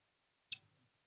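A single quiet computer mouse click, sharp and close, alone in near silence.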